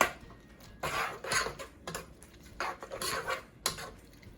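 Jerk tofu being stirred in a pot after coconut milk goes in, with utensil scrapes and knocks against the pot coming in several short bursts up close.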